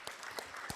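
Brief, faint smattering of applause from a seated audience in a hall, a few scattered claps standing out over a low background wash.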